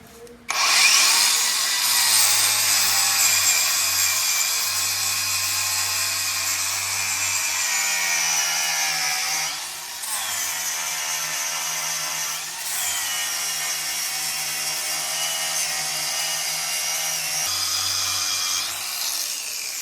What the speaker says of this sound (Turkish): Şimdi bu aşamaya kadar flap zımparayla taşladık.